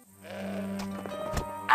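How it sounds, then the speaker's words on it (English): A goat in the Broken Sword 5 adventure game lets out one drawn-out, wavering bleat, close and clear, lasting under two seconds. "The goat had eaten Hobbs' carefully crafted provenance"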